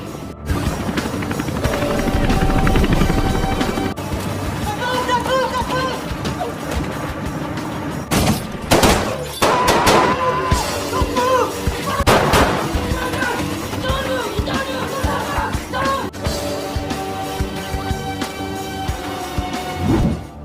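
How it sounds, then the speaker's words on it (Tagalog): Gunfire from snipers shooting from several directions cracks out in sharp bursts amid a loud, dense battle mix with rotor-like rumble and crashes, fairly close and continuous across the clip. "nagsimula na ang mga sniper sa pagbaril mula sa iba't ibang direksyon"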